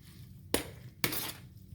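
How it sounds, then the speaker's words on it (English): Two short clinks of a utensil against a bowl while pasta salad dressed with Italian dressing is stirred; the knocks land about half a second apart and are close and clear. "Let me give this one a stir."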